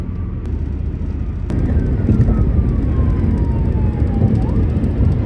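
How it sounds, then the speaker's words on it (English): An ambulance siren wails steadily with a falling pitch sweep over a loud rumble of road noise, close by and continuous, no talking. "it was an ambulance"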